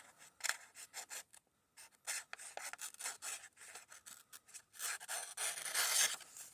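A Kizer Bugai knife shaving curls from a workpiece, heard as quiet, repeated scraping strokes of uneven length, close up and growing busier toward the end, with no talking.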